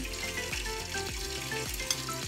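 Garlic, onion and ginger sauté in hot oil in a pot for congee, giving a steady close sizzle with sharper pops, mixed with a sustained tonal background and no speech.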